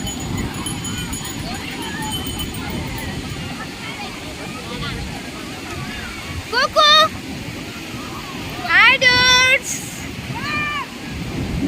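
Sea waves at Rajodi beach wash in as a steady, close surf roar, with a few brief sharp chirping calls on top and no clear talk over the water.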